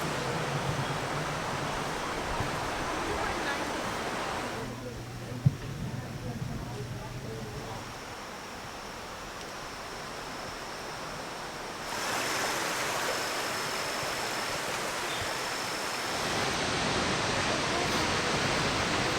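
Rushing waterfall and stream along a rainforest hike on the Big Island of Hawaii, a loud continuous broadband roar that dips and returns as the listener moves, with a brief sharp tap midway.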